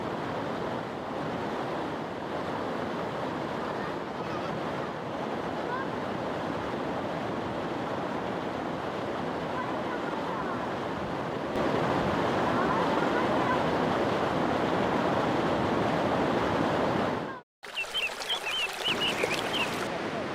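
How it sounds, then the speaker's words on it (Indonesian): Seuhom waterfall in Aceh Besar, a multi-tiered fall, roars as a steady dense wash of falling water, close and constant, growing louder partway through before a brief cut to a brighter stretch with faint bird calls. "Air terjun ini memiliki beberapa tingkat."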